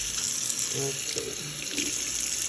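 Tap water runs steadily into a kitchen sink while salmon is washed, a continuous close hiss with a few soft splashing changes as the fish moves under the stream.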